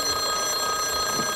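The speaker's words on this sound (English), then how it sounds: "The phone's ringing." A telephone rings steadily in a vintage radio comedy scene, its bell tone sustained over a hissy, noisy background with no talk during the ring.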